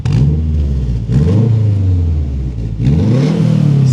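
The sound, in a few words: Subaru WRX exhaust rumble with new headers, valves off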